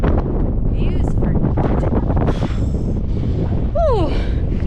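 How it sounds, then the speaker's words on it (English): Strong wind gusting across a rock outcrop in the Moab desert, a steady loud buffeting roar on the microphone throughout, with a voice speaking briefly over it. "It's so windy that I had to turn my hat around."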